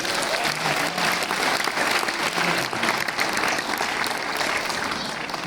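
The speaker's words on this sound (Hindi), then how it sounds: "तालियां एक बार बजा दीजिए।" Applause from a poetry-recital audience, a steady dense wash of clapping that holds loud and even without a break for several seconds.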